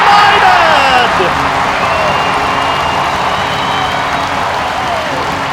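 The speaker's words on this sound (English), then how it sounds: "Crowd is buzzing right now" Ice hockey arena crowd roaring and clapping after a Sheffield Steelers goal against Fife Flyers, a loud, dense wall of cheers and applause that slowly eases while staying full.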